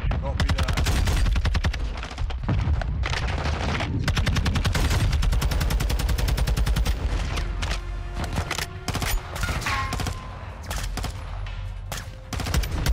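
Rapid bursts of gunfire from a video game, with repeated automatic volleys and shots running almost the whole time, loud and close, broken by brief pauses, with scattered game sounds and some background talk.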